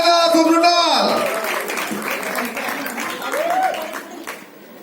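An audience at a Hindi film trailer launch for Jersey breaks into loud, sustained applause and cheering after an announcer's voice, the clapping swelling and then gradually tapering off.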